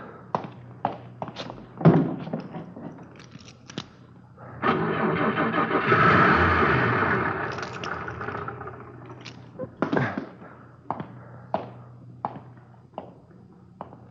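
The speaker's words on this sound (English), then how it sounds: "Lousy car wouldn't start." An old car's starter cranks and grinds for several seconds without the engine catching, framed by isolated thumps and clunks before and after, in a 1950 radio drama.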